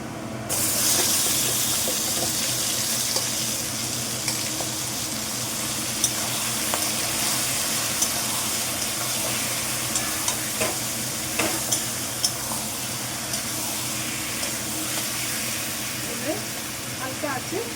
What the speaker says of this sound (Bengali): পেঁয়াজটা গোল্ডেন আকার নিয়ে নিয়েছে। এর থেকে বেশি আর ভাজবো না